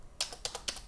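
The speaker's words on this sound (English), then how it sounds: "let's not do more typing than we have to" Keys on a computer keyboard clatter in a few quick, close clicks grouped into three short bursts, with quiet pauses between them.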